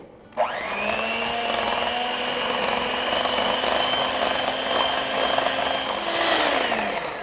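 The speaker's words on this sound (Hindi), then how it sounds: "अब इनको भी बीट कर लेंगे।" An electric hand mixer whirs steadily as it beats eggs into a smooth banana nut bread batter, a loud continuous motor drone starting abruptly and holding for about six seconds before winding down.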